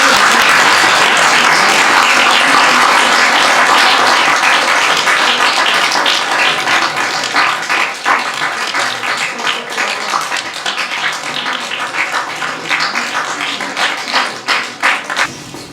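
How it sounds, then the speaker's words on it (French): Audience at a Lions club handover ceremony in Paris applauding: dense, sustained clapping that stays loud for several seconds, then thins into scattered individual claps. "C'est le cas de Alain, si vous voulez bien l'applaudir."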